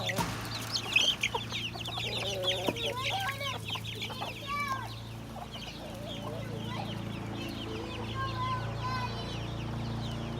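Young free-range pullets and cockerels in a food forest, many chicks clucking and chirping close by in a steady busy chorus over a low background hum.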